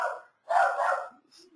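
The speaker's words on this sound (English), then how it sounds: "So my dog is barking." A dog barks twice close by indoors, sharp yips separated by a brief pause, with a faint vocal sound trailing after.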